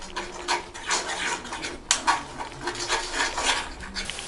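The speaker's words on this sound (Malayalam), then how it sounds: "ഇനി ഇത് നന്നായി മിക്സ് ചെയ്ത് നമുക്കിത് അടച്ചു വെച്ച് വേവിക്കാം." Chicken masala for Kerala-style chicken perattu is mixed in a pan and then covered, giving scraping and clinking of utensil against metal in an irregular rhythm, with one sharper clank partway through.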